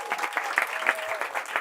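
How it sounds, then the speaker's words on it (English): A small crowd at a talk night claps briefly, a quick, lively patter of hands that is fairly close and a little uneven, with some voices faintly mixed in. "Round of applause for Steve."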